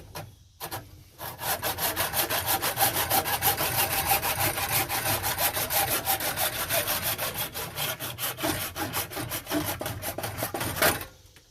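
Hand sawing through a chunk of fatwood with a Stanley saw outdoors: steady, rhythmic rasping back-and-forth strokes, close and loud, running continuously for about ten seconds with no talking.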